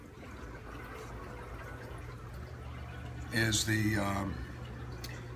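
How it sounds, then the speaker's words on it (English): Pond water pumped ten feet up runs back down by gravity through 70 feet of 3-inch PVC pipe, cascading like a stream; a steady rushing wash fills the clip, with someone briefly talking over it near the end. "The water is pumped up, and then gravitationally it runs back through the pipe"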